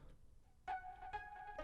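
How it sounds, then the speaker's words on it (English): A thin, reedy Serum synth line plays a few sustained notes with a bending, exotic-sounding Eastern melody, quiet and alone. "Kind of like a weird Eastern synth."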